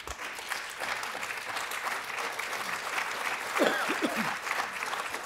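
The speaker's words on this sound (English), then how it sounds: "If you could hold your applause maybe to the very end" An audience at a Middletown city council meeting claps steadily, filling the room with dense applause throughout, with a few voices and a brief squeal rising over it briefly.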